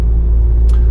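A heavy truck with a 500 hp engine labours up steep grades toward Marburg, its deep rumble steady and loud from start to finish, with no one talking.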